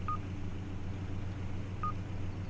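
Seismic vibrator scanner in an expedition video game giving two short electronic beeps about two seconds apart over a steady low engine rumble, faint and distant in the mix.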